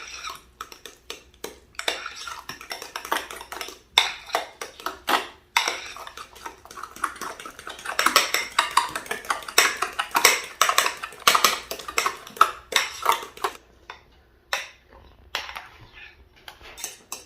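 Raisins and a little syrup being stirred into ricotta cheese for Egyptian konafa, with utensils repeatedly scraping and clinking against a bowl in quick, uneven bursts, close and fairly loud.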